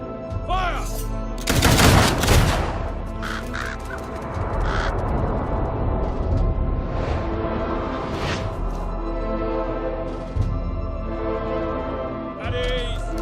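Firing squad in the game Fable III letting off one sharp, loud gunfire volley near the start, followed by a continuous busy background ambience with a brief voice.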